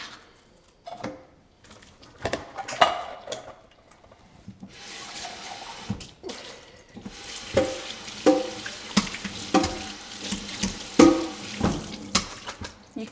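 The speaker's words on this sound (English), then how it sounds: "And then I drain off the black beans into a colander." Two tins of black beans drain into a colander in a kitchen, water splashing and trickling steadily with a few sharper clatters of beans and metal, close and fairly loud, no talking.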